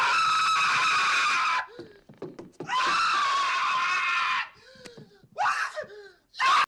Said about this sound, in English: the spider or tarantula scene where he's like, Gary, don't move. and the scream kills me every